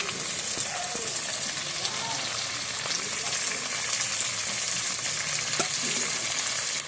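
Meat being braised in a pan sizzles steadily as ground cumin, coriander and a roasted spice mix are stirred in, with a continuous close hiss and occasional soft scrapes; faint voice-like tones sit in the background.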